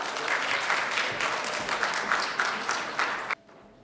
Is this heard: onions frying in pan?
no